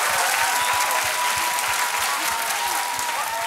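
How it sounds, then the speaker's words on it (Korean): Audience applause at a live music show, a dense, even roar of many hands clapping that holds steady and loud throughout, with no talk over it. "이제 박수 한번 주셔야 됩니다."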